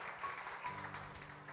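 A congregation at a Telugu church service claps together, a short burst of many hands in a room, with a low held tone rising under the clapping.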